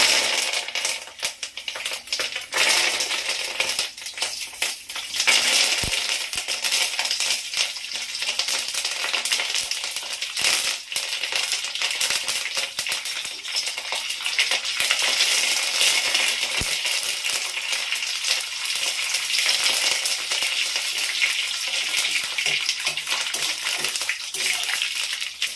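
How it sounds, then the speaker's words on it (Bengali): Mixed white and black mustard seeds with curry leaves crackle in hot oil for lemon rice, a loud, close, continuous sizzle with dense popping and spitting that stays constant throughout. "আর এই সাদা কালো মেশানো সর্ষে এর মধ্যে ফোড়নে দিচ্ছি। দিয়ে দিচ্ছি কারি পাতা।"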